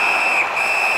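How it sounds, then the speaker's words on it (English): Sustained referee whistle in the NHL 18 hockey video game, a steady shrill tone holding for about a second over crowd noise. "Puck covered, whistle blown."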